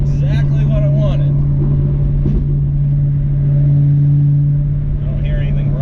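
New Edge Mustang fitted with an inexpensive cat-back exhaust, droning steadily as it pulls harder under acceleration, with a constant engine tone and someone talking over it.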